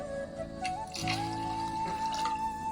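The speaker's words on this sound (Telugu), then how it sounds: "ఇప్పుడు వాటర్ యాడ్ చేసుకొని మనం మూత పెట్టేసుకోవడమే." Water poured into a curry in a pressure cooker, close splashing and gurgling that rises in pitch as the pot fills, over a steady background hum, with no talk.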